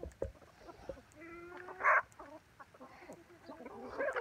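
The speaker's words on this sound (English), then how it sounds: "Now that is a very calm chicken." A calm house chicken clucks softly up close indoors, giving a few short murmured calls and one brief louder squawk among faint background sounds.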